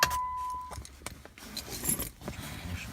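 Keys jangling at the ignition of a Jeep JK as it is switched off, a faint metallic rattle close by under low cabin noise, with a brief chime at the start.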